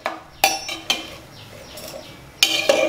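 A spoon stirs vegetables for aviyal in a pot with a few close metallic clinks and scrapes against the vessel. The sounds are spaced irregularly over a quiet background.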